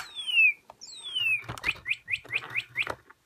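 Birds call with two long descending whistles, followed by a rapid series of six short, sharp chirps in an even rhythm.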